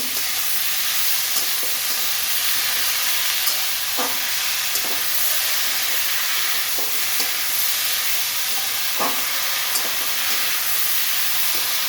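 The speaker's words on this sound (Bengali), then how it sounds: "কপি ভালো করে কষতে নেব" Cauliflower sautéing in a pan, a steady bright sizzle and hiss throughout with occasional scraping stirs, close and loud with no talking.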